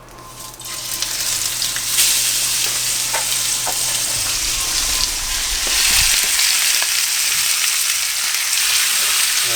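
Venison pieces sear in hot butter in a pan, giving a loud, continuous sizzle and crackle with occasional sharper pops as the meat is spread out and stirred.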